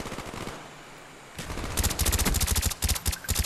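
Rapid automatic gunfire in Call of Duty: Black Ops Gun Game mode, a short hiss giving way to dense bursts of loud, closely spaced shots that come in several clustered volleys.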